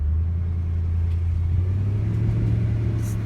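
A Mercedes-Benz E63 AMG W211 runs with a deep, steady low rumble, heard close and even, with a slight swell partway through and no talk.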